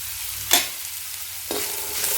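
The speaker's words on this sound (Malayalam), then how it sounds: "വെളിച്ചെണ്ണ നല്ലപോലെ ചൂടായി വരുമ്പോൾ നമ്മൾ വെളുത്തുള്ളിയും ഇഞ്ചിയും അരിഞ്ഞു വെച്ചേക്കുന്നത്" Chopped garlic and ginger drop into hot coconut oil with a burst of sizzling, then fry with a steady crackle and a second stirring scrape, close and clear with no talk.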